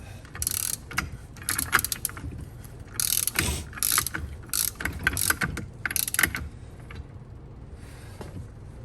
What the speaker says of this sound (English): I got my torque wrench set to 70